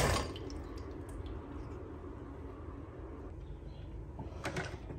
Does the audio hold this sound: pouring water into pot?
yes